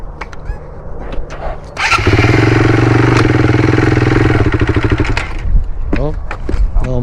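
Small mini bike engine revving hard and steadily for several seconds, loud and close, with a rough buzzing drone that rises and then drops away, with voices talking before and after.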